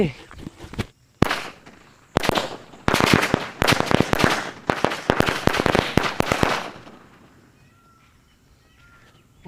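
Sivakasi firecrackers go off in a rapid, loud string of sharp bangs and crackles, bursting in clusters for several seconds before the popping dies away into quiet outdoor background.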